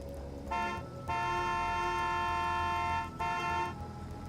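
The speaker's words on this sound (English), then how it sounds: "Honk honk." Vehicle horn in the Satisfactory video game sounding two sustained honks, one long and one shorter, fairly quiet over a low engine hum.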